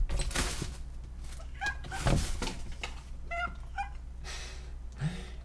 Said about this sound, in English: that's my cat jumping on my desk and knocking things around